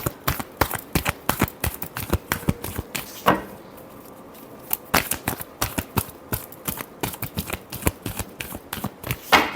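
Tarot cards are shuffled in quick, crisp riffling bursts with a steady flicking rhythm and one brief pause, loud and close with no voices.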